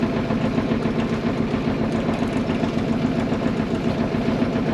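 A newly installed engine idles steadily and evenly with a constant mid-low rumble, close and continuous, with no voices.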